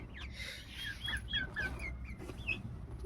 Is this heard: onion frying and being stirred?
no